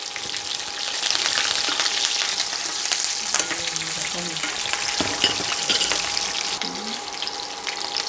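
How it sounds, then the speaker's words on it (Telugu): Peanuts, curry leaves and green chillies fry in hot oil for lemon rice, making a loud, continuous crackling sizzle with stirring clatter mixed in and no voices. "పల్లీలు కొద్దిగా వేగిన తర్వాత ఇందులో కొద్దిగా కరివేపాకు వేసుకోవాలి. ఇందులోనే పచ్చిమిర్చిని కూడా వేసుకోవాలి."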